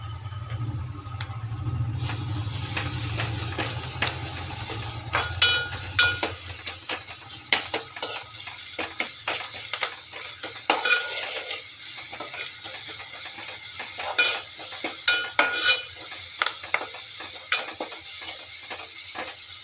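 Onions fry in a pan with ginger garlic paste and curry leaves added, a close, continuous sizzle punctuated by scraping stirs and a few clinks of the spoon against the pan.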